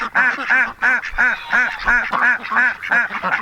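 A flock of ducks, Pekin ducks among them, quacking loudly and continuously in a repeated rhythmic chorus, close by, with a brief bit of human voice underneath.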